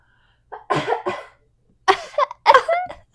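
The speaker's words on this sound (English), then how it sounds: "Sorry, I clear my throat." Someone close by clears their throat in two rough, harsh bursts, the second group louder, with a short quiet gap between them.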